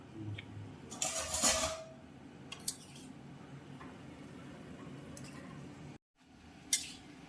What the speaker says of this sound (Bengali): মা ভালো করে একটু নাড়িয়ে দেবো